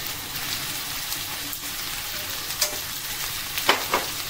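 Mixed vegetables stir-fry over high heat in a pan with onions for Indian-style Mongolian rice, giving a steady close sizzle broken by a few sharper scraping clicks near the end.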